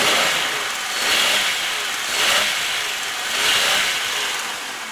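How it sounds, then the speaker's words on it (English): A 2004 Buick Century sedan with a 3.1 liter V6 engine is revved three times in steady, rising swells of a broad engine roar, heard fairly close with no talking. "I'm going to rev it up for you."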